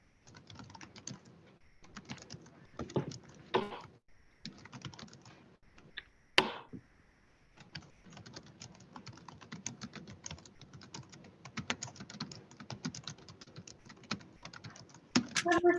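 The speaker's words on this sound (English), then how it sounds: "Whoever's typing like a maniac" Rapid, continuous typing on a computer keyboard during an online health care meeting, dense clattering keystrokes running steadily with brief pauses, fairly close and moderately loud, with no talk.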